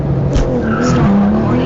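Stage 2 Porsche 911 Turbo launching hard from a standstill, a loud, continuous engine roar rising in pitch with a brief tire chirp near the start, close and filling the whole short burst.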